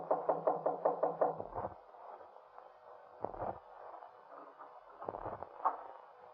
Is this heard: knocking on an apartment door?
yes